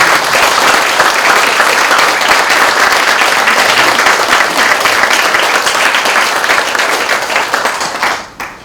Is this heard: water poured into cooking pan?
no